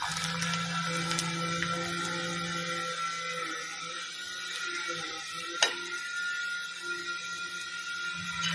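Daliya (porridge) papad frying in hot oil, a close continuous sizzle and bubbling hiss with light scraping and one sharp clink partway through.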